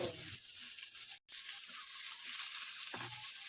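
Peas frying with browned onions in a pan, a steady hissing sizzle with brief stirring knocks, near and fairly quiet, broken by a very short gap.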